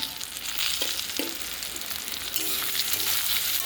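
Ivy gourd (kundri) sizzling steadily as it fries with salt and turmeric in a village kitchen, a continuous close crackle with a few light clinks of stirring.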